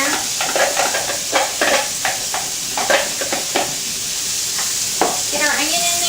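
Chopped onion hits a hot pan and sizzles steadily, with scattered scraping stir strokes and clinks over the continuous hiss; a voice talks briefly near the end.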